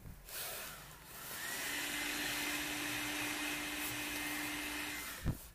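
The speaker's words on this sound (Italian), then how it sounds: "sempre aiutandoci con il phon" A hair dryer blows hot air onto phone screen glass during a touch-glass replacement, a steady close whooshing drone that runs for several seconds with a brief knock near the end.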